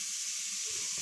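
Butter heating in a pan for a frozen cooked white clam dish with garlic and ginger gives a steady, soft sizzle, a continuous hiss held close throughout the short moment with no voices.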